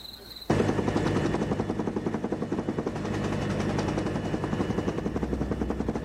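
A helicopter flies during a US Army Special Forces operation, its rotor chopping in a rapid steady pulse that starts abruptly and stays loud and close throughout.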